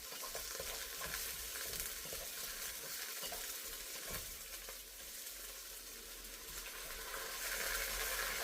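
Vegetables stir-frying with a soup base in a hot pan, a constant sizzle with stirring and scraping, close and steady without talk.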